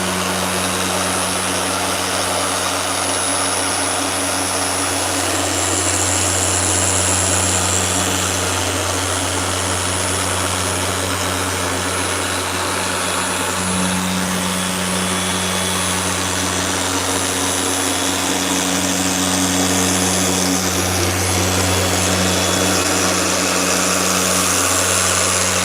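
A machine polisher buffs the paint of a car during paint correction, a loud, unbroken motor drone with a faint high whine that rises and falls as the pad moves over the panel.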